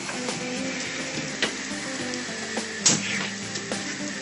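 Butter cooks gently in a small copper sauté pan, giving a soft, steady sizzle throughout with a few light clicks and stirring taps, no voices.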